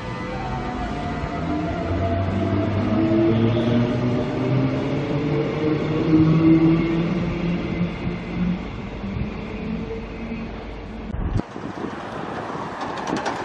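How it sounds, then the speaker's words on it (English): A Cooper's Plains express train pulls into platform one at a Brisbane station, with a loud rumble, rising and falling wheel and motor tones, and wind buffeting the microphone, ending in a sudden clatter. "The train arriving on platform one is the Cooper's Plains train running express from Dutton Park to Yeronga."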